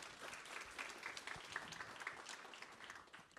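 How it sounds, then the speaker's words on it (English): Audience applause at a behavioral health crisis forum, a continuous broadband patter of many hands clapping, fairly distant and quiet, sustained across the whole stretch. "Please give him a round of applause."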